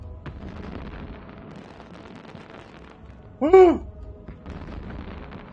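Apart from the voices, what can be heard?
fireworks exploding in a space video game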